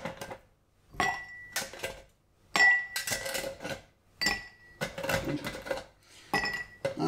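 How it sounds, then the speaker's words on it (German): Ice cubes are dropped into a cocktail mixing glass while a Negroni is being made. Several bright clinking, rattling bursts sound close, with short pauses between them and no talking. "Jetzt geben wir Eis in unser Rührglas."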